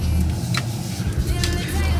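Close-up rumble inside a car driven by a learner who brakes too hard, a steady low engine and road drone with small surges, heard without clear talk over it.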